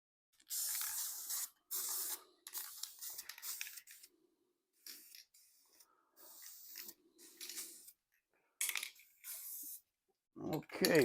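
Silver paint sprays onto a header and intake for a Ford 302 engine budget build in a messy garage, several separate hissing bursts of varying length with short pauses between them, and someone speaking quietly in the gaps.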